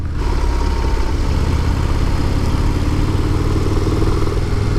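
Harley-Davidson motorcycle engine running loud and close while the bike is ridden on twisty roads, a steady throbbing drone with no voices.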